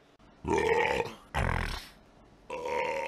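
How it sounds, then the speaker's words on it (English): Three loud, drawn-out belches in a row, each a deep croaking burst, with short quiet gaps between them, close to the microphone. "I may belch loudly many times during the stream."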